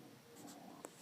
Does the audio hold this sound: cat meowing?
no